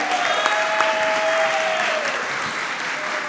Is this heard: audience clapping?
yes